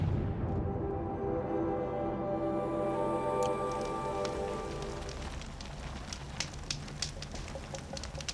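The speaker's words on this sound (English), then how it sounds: "I don't mind the rain." Rain falls in Horizon Zero Dawn as a steady, dense hiss and patter, with scattered sharper drops ticking in toward the end.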